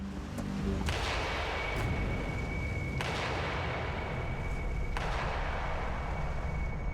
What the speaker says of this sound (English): A gunshot is fired at another part of the bay that echoes off the great cliff face